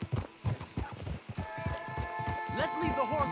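Horses walk in Red Dead Redemption 2 with distinct hoof clops under a man's speech, joined partway through by sustained tonal music.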